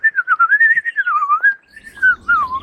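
Whitethroat singing outdoors, a loud close run of scratchy, warbling whistled notes in a quick continuous phrase lasting a couple of seconds, with no talk.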